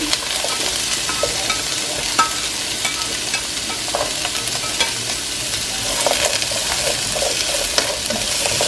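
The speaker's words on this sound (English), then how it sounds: "Red peppers, red onions, garlic and ginger, and it's all going in." Red peppers, red onions, garlic and ginger fry in a little oil, a dense continuous sizzle with intermittent stirring scrapes, close and steady throughout with no talking.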